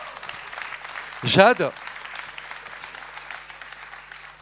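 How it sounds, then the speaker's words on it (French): Audience applause continues under and around a spoken name, with the clapping forming a soft, steady wash. "Bravo, on peut les applaudir."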